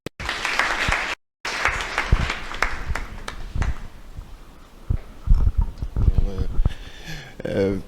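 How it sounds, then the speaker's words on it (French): Audience applause welcoming a speaker at a law institute launch event in Dakar, a steady wash of many hands clapping broken by a brief gap, with voices talking over it toward the end. "Sous vos applaudissements, s'il vous plaît, monsieur."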